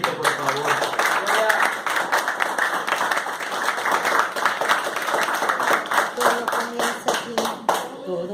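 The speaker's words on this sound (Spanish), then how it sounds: "Denle otro fuerte aplauso a Cristo, por favor" A congregation in a Spanish-language church service gives Christ another loud round of applause, sharp rhythmic hand claps sustained throughout, with singing or shouting voices underneath.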